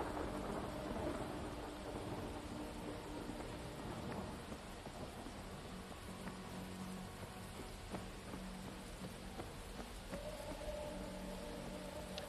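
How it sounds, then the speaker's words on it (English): Steady rain and distant rolling thunder from a zombie video game, a continuous hiss of rainfall with occasional soft rumbles, heard alone without talking. "It's raining, thundering."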